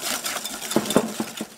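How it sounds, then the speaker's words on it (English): A whisk beats sugar into egg yolks in a bowl, giving a run of quick, light metallic clinks and scrapes at an uneven, brisk rhythm, close and moderately loud with no voices. "Add sugar to egg yolks and whisk until light and creamy."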